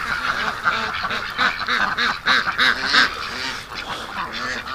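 A group of ducks quacks repeatedly and overlapping, loud and close, in an irregular, continuous chorus.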